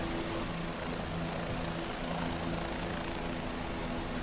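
A helicopter in the X-Plane 11 flight simulator on a Faroe Islands tour, its rotor and engine giving a steady, loud, unbroken drone with a constant high whine over it, and no talking.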